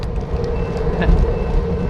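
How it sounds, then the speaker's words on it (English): A train passes close by during a chilly-weather bike commute, a loud, continuous rumble and rattle of rail cars that fills the whole stretch. "Oh, here comes a train."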